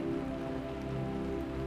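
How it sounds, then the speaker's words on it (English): Soft drizzle after a storm patters steadily on surfaces, a faint, even hiss of raindrops with no voices and no breaks. "The storm quieted as if in respect, leaving behind a soft drizzle"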